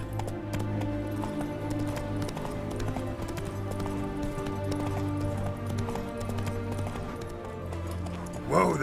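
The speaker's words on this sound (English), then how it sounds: "Whoa there, Roach." Horse galloping in The Witcher 3: Hearts of Stone, with rapid steady hoofbeats running throughout under a bed of game music, ending with a short whinny-like rise.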